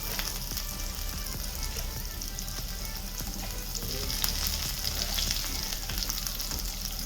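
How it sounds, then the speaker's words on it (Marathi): Curry leaves, finely chopped onion and chili sizzle steadily in hot oil in a pan, a continuous even frying hiss with occasional light stirring, no talk. "दोन ते 3 मिनटं चांगलं सॉट करून घ्यायच्या."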